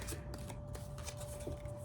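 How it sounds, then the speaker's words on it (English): A large, oversized deck of cards being shuffled gives a steady, soft riffling and flicking close by, continuous with a few sharper snaps. "I don't know why I'm using this deck again, because it is just so difficult to shuffle."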